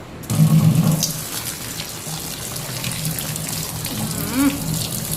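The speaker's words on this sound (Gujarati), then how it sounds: "ઠંડુ પાણી વેળો ને તો સારું." Water runs steadily from a tap into a sink, a continuous splashing flow, with a brief voice in the background near the end.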